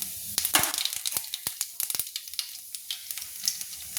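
Black cumin seeds hitting hot smoking oil in a pan for rui posto, crackling and popping in sharp irregular bursts, close and lively with quieter sizzle between pops.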